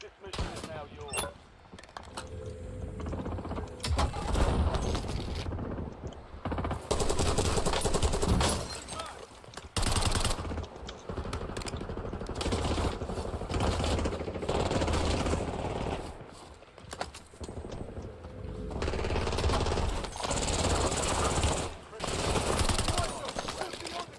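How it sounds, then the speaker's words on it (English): Gunfire from the Battlefield 6 beta, a first-person shooter, comes as dense automatic bursts and overlapping shots that stay loud and nearly continuous, with only brief lulls. "Everybody's shooting at me."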